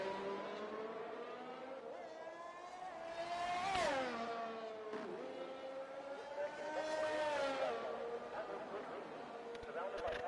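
A race car in a racing video game sets off on a flying lap at the Hungary circuit. Its high engine whine climbs and drops through repeated gear changes, continuous and fairly close, with voices talking faintly underneath.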